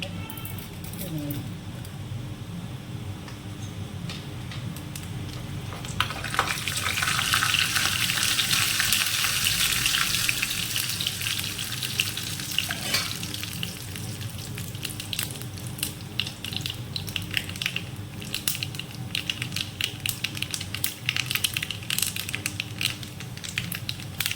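Urad dal is dropped with mustard seeds into hot oil for a curry, giving a continuous crackling sizzle that swells partway through, with occasional stirring scrapes and a person talking over it.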